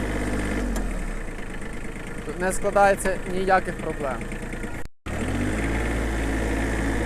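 A Mitsubishi MT135 mini tractor engine runs at a steady low idle-like chug throughout, close by, while someone talks over it; after a short cut the same running resumes.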